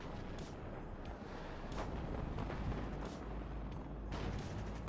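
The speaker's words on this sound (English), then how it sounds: "Artillery being used on this area now." Artillery fire in the WARNO real-time strategy game: a continuous rumble of distant booms and impacts with several sharper blasts layered over a dense low roar.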